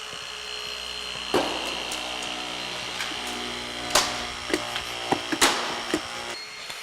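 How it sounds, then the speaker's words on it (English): A hydraulic rescue spreader forces open the latch of a car hatchback during a vehicle extrication, a steady pump drone punctuated by several sharp metallic cracks and pops as the latch gives way. "He's going to get a big spread, and we're going to blow out that latch mechanism."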